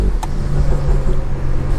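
Tuned BMW 340i engine running steadily with a deep, continuous low rumble and a faint burble, with no voices over it.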